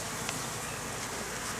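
Honeybees around an opened beehive during an inspection of its frames, a dense continuous buzzing swarm that stays steady and close throughout, with no one talking.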